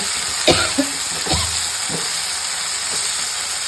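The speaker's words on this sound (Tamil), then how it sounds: "என்ன இன்க்ரீடியன்ட் இருக்கோ அதை எண்ணெயில் போட்டு கொஞ்சம் நேரம் ஃப்ரை பண்ணியாச்சு" Ingredients sizzle and fry in hot oil for a tamarind curry, a steady loud hiss with a few clanks from stirring near the start.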